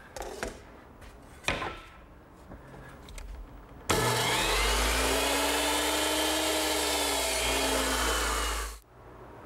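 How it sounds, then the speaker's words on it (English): A woodworker handles tools and wood with a few knocks and clatters, then a power saw cuts across the end of a wooden rail for a blanket chest. The saw whines loudly and steadily for about five seconds before spinning down. "Now make a cut on one end of the rail."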